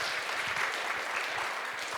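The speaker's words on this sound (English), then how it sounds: "Let's have a round of applause to Biostasis team and Rebecca." Applause from an audience at a cryonics talk, a steady wash of clapping lasting about two seconds, fairly quiet and continuous without voices.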